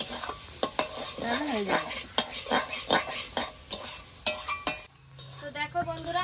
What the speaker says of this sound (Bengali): এবার নেড়ে চেড়ে আরেকটু ঝোলটা শুকিয়ে নেব